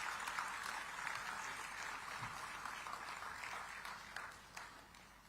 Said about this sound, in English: Let's greet him with an energetic round of applause.